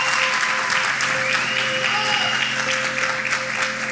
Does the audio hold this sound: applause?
yes